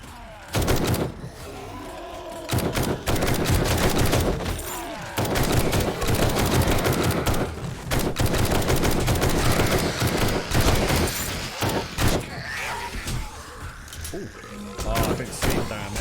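Gunfire from the zombie survival game 7 Days to Die, including a suppressed pistol, crackles as dense, loud volleys of rapid shots across most of the stretch, with brief gaps between bursts and voices mixed in.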